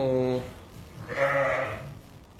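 Ewes bleating in a sheepfold as they are brought in for winter, two loud nearby calls in quick succession, the first a harmonic baa, the second a rougher, brighter bleat.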